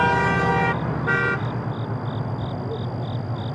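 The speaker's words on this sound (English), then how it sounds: "You heard drivers passing by honking their horns in solidarity." Passing drivers honk car horns in support outside a striking auto plant, one long blaring honk and a shorter one followed by a fast series of regular short toots over road noise.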